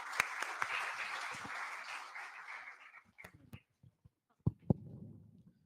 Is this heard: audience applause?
yes